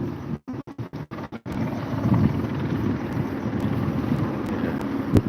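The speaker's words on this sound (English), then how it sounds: "Yeah. There's 2 choppers up there stationary." Two helicopters hover stationary overhead near the edge of a university campus during a student protest, a steady low broadband rumble with wind buffeting the microphone, after a few brief choppy dropouts at the start.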